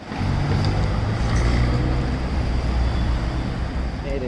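Steady road traffic in Walthamstow, London, a continuous loud low rumble of cars and heavier vehicles passing close by, with no pauses across the stretch.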